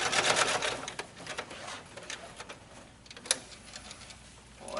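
A sewing machine stitches bias tape onto an Elizabethan doublet sleeve, giving a close, steady mechanical ticking run. It starts louder, eases off midway and picks up again, and there is no talking.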